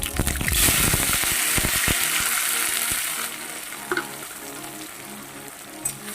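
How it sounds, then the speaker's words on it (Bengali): Chopped onions and a tomato hit hot oil in a pan, bursting into a loud sizzle that settles into steady frying, with a couple of stirring clinks toward the end. "এটাকে একটু ভেজে নেব"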